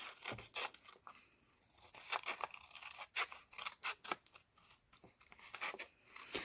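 Scissors snip repeatedly through paper while cutting out a piece for a polymer clay pendant project, a close, steady series of crisp cuts and rustles with no talking.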